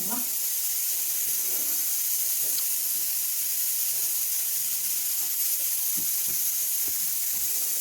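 A pressure cooker cooking lentils hisses steadily, a continuous high steam hiss with a few faint clicks and knocks beneath it.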